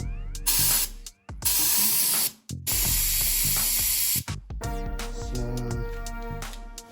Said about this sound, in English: we've set the compressor up and the pressure is set at